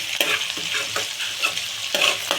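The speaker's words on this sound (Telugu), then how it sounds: "ఆనియన్స్ అనేది దోరగా ఫ్రై అయిపోయినాయి" Onions frying golden in a pan with dried prawns, a steady bright sizzle broken by several soft scraping stirs, close and moderately loud with no talking.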